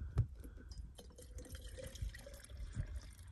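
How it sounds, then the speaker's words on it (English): Water poured into an electric kettle at a campsite near Creede, Colorado, a quiet, brief trickle with soft drips and light handling knocks, heard close up. "pour some water inside"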